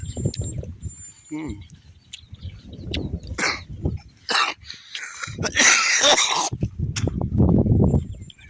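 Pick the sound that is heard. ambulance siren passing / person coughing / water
person coughing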